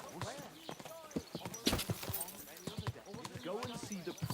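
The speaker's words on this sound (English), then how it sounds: "Someone's been pampering this horse." Horse hooves clip-clop in an uneven, lively rhythm in a medieval video game, close and fairly clear, mixed with the animal's snorting, while voices speak over them.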